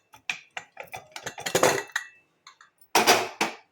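A pressure cooker lid is worked open in a home kitchen with a quick run of sharp metallic clicks, scrapes and clanks, then a brief pause before two louder rattling knocks near the end.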